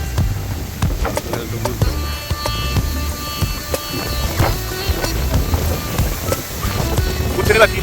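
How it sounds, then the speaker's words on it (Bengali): Strong storm wind in a village, gusting roar buffeting the microphone with rattling and knocking noises, while someone talks over it. "কি বাতাস চালাচ্ছে,"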